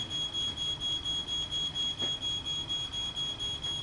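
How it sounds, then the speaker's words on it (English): A ground floor smoke alarm in a house where a wicker chair has caught fire, beeping in a steady rapid pulse, faint and distant, with a continuous high tone running throughout. "The ground floor smoke alarm activates."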